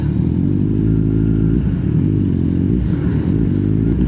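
A Kawasaki Z1000 inline-four 1000cc motorcycle fitted with a new exhaust runs loud and close, holding a deep, steady rumbling drone with small surges in revs and no talking.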